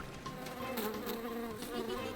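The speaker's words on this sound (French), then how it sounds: "Scout pense qu'il devrait y avoir une abeille sympathique dans l'histoire." A cartoon bee buzzes steadily and loudly for the whole stretch, a continuous droning hum with slight wavering, heard alone without talk.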